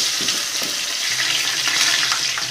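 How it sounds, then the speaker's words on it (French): Onions frying in a pan over lowered heat for a Senegalese thiep diène, a steady close sizzle with light stirring scrapes and occasional soft knocks. "Vous mettez les oignons."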